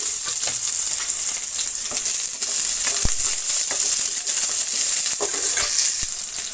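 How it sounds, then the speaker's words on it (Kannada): Mustard seeds and thick-cut onions fry in a pan, a loud, dense continuous sizzle with occasional small pops and crackles from start to finish. "ಸ್ವಲ್ಪ ಸಾಸಿವೆನ ಸೇರಿಸ್ತಾ ಇದ್ದೀನಿ ಅದರ ಜೊತೆಗೆ ನೋಡಿ ದಿಕ್ಕ ಕಟ್ ಮಾಡ್ಕೊಂಡಿರುವಂತಹ ಎರಡು ಈರುಳ್ಳಿನ ಸೇರಿಸ್ತಾ ಇದ್ದೀನಿ"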